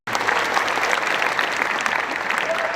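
An audience claps steadily for a few seconds, a dense crowd applause that starts abruptly and stays even and close throughout.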